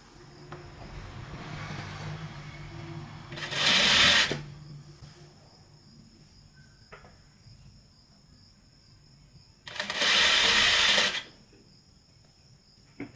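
A sewing machine stitches a half-inch seam on a saree in two short loud bursts of rapid stitching, separated by a long quiet stretch of faint background noise.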